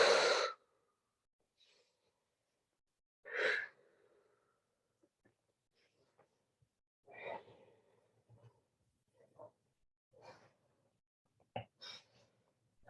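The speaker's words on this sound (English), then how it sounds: "We'll take 5 more rounds of breath in our forward fold." Slow, deep yoga breaths taken in a forward fold, soft long exhales spaced several seconds apart, close and quiet with faint small rustles between them.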